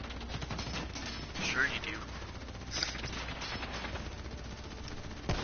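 Gunfire crackles through a Call of Duty Black Ops 3 campaign firefight in a few sharp bursts spread across the stretch, mixed under voices talking.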